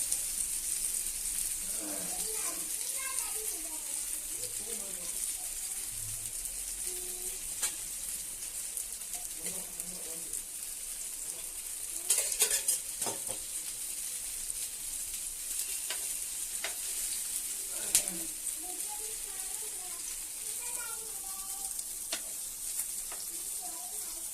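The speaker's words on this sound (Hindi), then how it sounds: "इस तरह से हमको इनको फ्राई करने डालें।" Arbi leaf pakoras frying in hot oil give a steady, close sizzle with occasional stirring clatter and brief louder crackles, continuing for the whole stretch with faint voices in the background.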